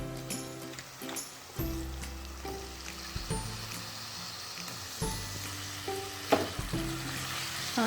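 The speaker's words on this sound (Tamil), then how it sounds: "இஞ்சி பூண்டு பேஸ்ட்டு வெங்காயத்தை கூட சிக்கனை நல்லா வதக்கிடலாம்" Chicken sautéing with ginger garlic paste and onion in a pan for a Tamil chicken fry, a steady close sizzle with periodic stirring scrapes, under background music tones.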